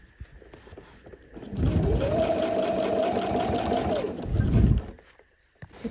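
A sewing machine stitches steadily through several thick layers of binding on a fabric bag, running as a continuous close motor whir for a few seconds with a slight rise just before it stops.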